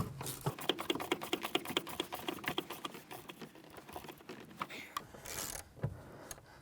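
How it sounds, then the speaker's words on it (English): Rapid, light ratcheting clicks from a 13mm gear wrench tightening rear upper strut mount bolts on a 2006-2013 Chevrolet Impala, coming in quick bursts with brief pauses, close and fairly quiet. "use a 13mm gear wrench to go ahead and tighten these down"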